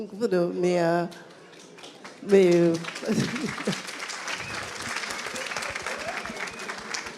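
After a conference talk on the CES Las Vegas 2019 trade show, an audience breaks into applause for the speakers. Voices speak first, then dense clapping rises and holds steadily to the end.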